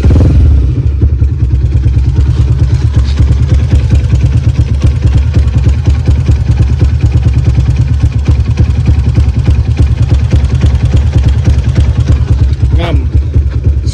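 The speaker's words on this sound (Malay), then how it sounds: "So, kita try start dengan bunyi enjin" A Yamaha LC135 motorcycle engine, freshly rebuilt with a new top set after a blown gasket, idles with a rapid steady putter and mechanical clatter; loud and close throughout.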